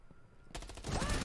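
Rapid gunfire from the mobile shooter game Rainbow Six Mobile: a dense burst of shots that swells and stops abruptly, loud and close, with no talking over it.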